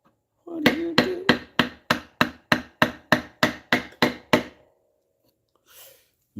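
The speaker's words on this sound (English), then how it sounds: "Let's see what this chisel does. I've never used this one before either. Let's give it a whack." A hammer strikes a chisel into wood in a quick, even run of about twelve sharp, loud knocks close by, each ringing briefly, followed by silence and a faint rustle.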